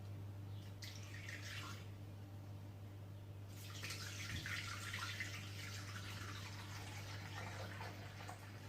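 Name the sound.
pouring 400 g of water into a Thermomix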